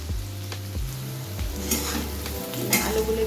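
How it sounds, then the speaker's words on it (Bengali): Potatoes sizzle in hot oil with a little salt, frying steadily in a pan with a constant crackle while a utensil stirs and scrapes them in short bursts, close and clear with no talking. "আর একটুখানি হওয়া অবধি এগুলোকে একটু ভেজে নেব"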